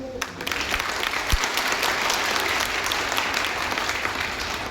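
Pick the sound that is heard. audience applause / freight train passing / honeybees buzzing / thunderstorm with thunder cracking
audience applause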